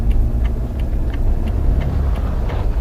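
A manual car pulls away from a standstill as the clutch is released and a light touch of throttle is given, a steady low engine rumble with faint periodic ticking above it, no talk.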